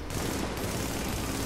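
Sustained rapid gunfire in the shooter game The Division forms a dense, unbroken barrage that stays loud throughout.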